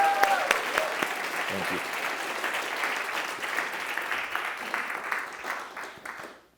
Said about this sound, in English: I just want to give the judges one more round of applause for their time here